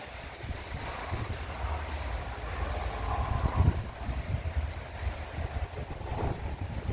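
Storm wind in the Netherlands roars steadily and close, with gusts buffeting the microphone and swelling midway, sounding alone without any voices.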